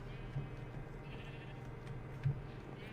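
Sheep bleating in Minecraft (FTB modpack), two brief quiet bleats a couple of seconds apart over a low steady in-game background hum.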